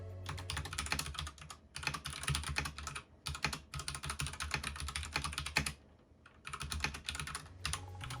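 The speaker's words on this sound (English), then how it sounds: "What you just heard was AKKO's pink switches, which are linear with a 45 gram actuation force." Rapid keystrokes on an AKKO 3087 V2 mechanical keyboard fitted with pink linear 45-gram switches, a dense clattering stream of clicks in bursts with brief pauses, close and fairly quiet.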